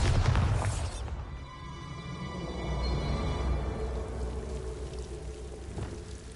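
A Bombarda blasting spell explodes in the Hogwarts Legacy game with a loud, deep boom, followed by several seconds of settling rumble and a trickling, pouring debris sound.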